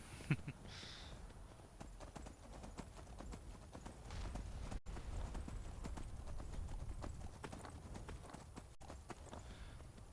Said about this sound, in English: as soon as I get off this horse, he's gonna turn around and start walking back to where he came from